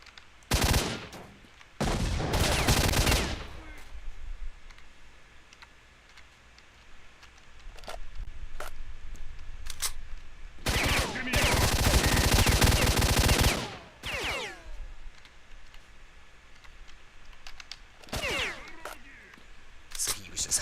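Gunfire in the video game STALKER: Shadow of Chernobyl comes in loud bursts of rapid automatic shots, alternating with quieter stretches, scattered single shots and voices talking.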